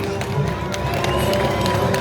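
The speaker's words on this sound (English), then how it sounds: "With a nice big round of applause to welcome our handlers and tigers onto the island." A crowd at a Tiger Island wildlife park presentation claps steadily as handlers lead tigers onto the island, a moderate, continuous round of applause mixed with faint crowd murmur.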